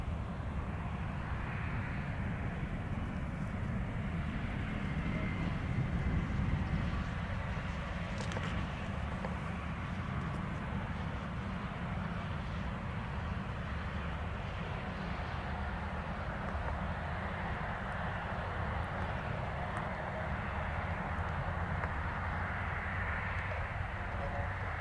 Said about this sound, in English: This PC-12 landing with an engine failure.